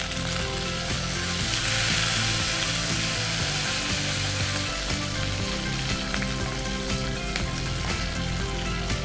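Loud, steady sizzling of a South Indian tempering in hot oil, with green chilies, ginger, grated coconut and curry leaves crackling continuously for the whole stretch over a low background hum.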